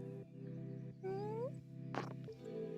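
A cat meows right by the microphone, one rising, drawn-out meow and a short squeak over a steady low purr, close and clear throughout.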